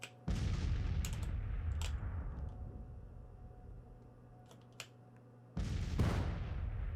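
Artillery fire in a Civil War strategy game, heavy booming blasts at the start and again near the end, with a lower rumbling battle din between them.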